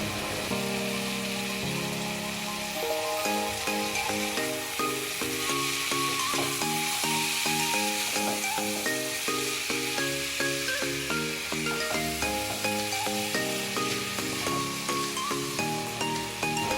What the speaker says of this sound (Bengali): গ্যাসের ফ্লেমটা একটু লো করে আমি আস্তে আস্তে ফ্রাই করে নেব